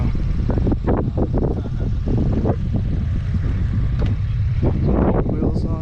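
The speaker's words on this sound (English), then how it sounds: "It's getting kind of windy out now" Gusty outdoor wind at a car show buffets the microphone in a steady loud rumble, with low thumping gusts rising and falling throughout and no voices.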